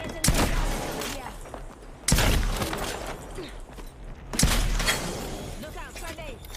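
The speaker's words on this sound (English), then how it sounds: "You can actually hear extra shooting coming from behind me." Gunfire in the Apex Legends video game: three sharp, loud shot bursts spaced about two seconds apart, each trailing into echoing rattles and background battle noise.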